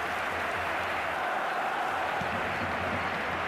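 Crowd applause from an eFootball match plays as a continuous, fairly faint wash of clapping for a few seconds with no break.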